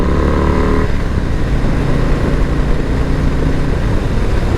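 A 2022 Harley-Davidson Low Rider S motorcycle engine runs loud and close, a steady throaty rumble that shifts pitch about a second in as the bike revs, with no voices over it.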